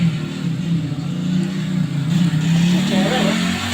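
Motorcycle engine revving in a TV advertisement, a continuous mid-pitched engine drone that swells and rises in the second half, with faint voices underneath.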